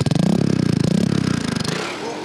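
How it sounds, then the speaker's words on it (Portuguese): A motorcycle engine catches and runs after being pushed through a flooded street following heavy rain, a loud close idle with rapid even pulsing that gradually eases over a couple of seconds. "a moto funcionou."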